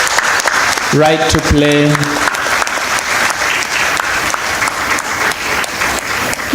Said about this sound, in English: Can we give AFSI very loud round of applause?